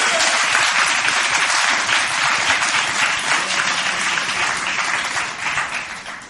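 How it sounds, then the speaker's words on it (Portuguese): A church congregation bursts into sustained, dense applause that stays strong for several seconds and then gradually fades toward the end. "Você pode aplaudir o Senhor?"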